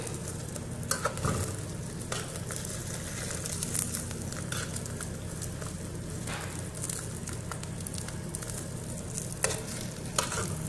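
An egg fries in a pan with a steady, dense sizzle and crackle that runs unbroken throughout, close and fairly loud, with a few brief scrapes of stirring on top.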